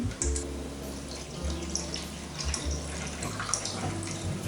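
Warm water is poured into a pot in a home kitchen while making pumpkin rice porridge, a soft, close trickling and splashing with a low hum beneath, no talking.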